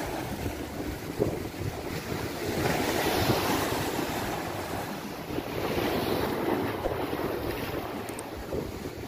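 Strong surf pounds a shoreline during a typhoon, with waves crashing in continuous loud surges and wind roaring across the microphone throughout, no voices.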